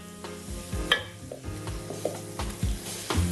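Chorba ingredients sautéing in oil in a pot, with a steady sizzle under repeated stirring scrapes and a few clinks of utensil on metal, close and moderately loud, no voices.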